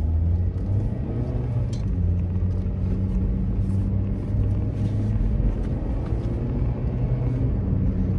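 A 2013 Kia Picanto 1.3 automatic on the move, heard as a steady low engine and road rumble from inside the cabin, constant and without speech.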